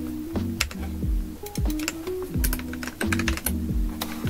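Close computer-keyboard typing while renaming parts in Roblox Studio, with quick bursts of clicky keystrokes over a steady background hum.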